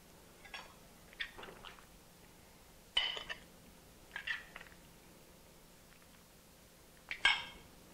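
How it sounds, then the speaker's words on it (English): Chicken fajita pasta is served onto a plate with five or six soft, separate scrapes and clinks of utensil against dish, spaced out and fairly faint in a quiet kitchen. "now I'm going to put some on a plate and show you what it looks like served"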